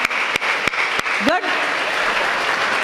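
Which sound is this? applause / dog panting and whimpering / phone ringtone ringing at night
applause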